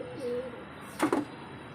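A pigeon gives a short, soft coo at close range against a quiet backdrop, a single brief call in a loft of pet pigeons.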